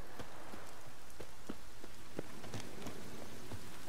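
Steady rain in The Witcher 3: Wild Hunt, a dense continuous hiss with scattered sharper drop taps throughout, with no voices.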